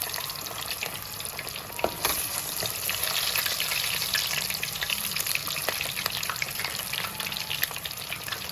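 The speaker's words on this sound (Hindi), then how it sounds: "ये मछली को अच्छी तरह फ्राई कर लेना है।" Fish frying in a pan, a loud, continuous hiss and crackle of hot oil that stays steady throughout, with a few sharper pops and no talking.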